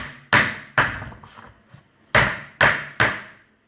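A metal cake tin filled with smooth batter is tapped and knocked against a counter to settle it, giving six sharp, close thuds in an uneven rhythm, with no talk.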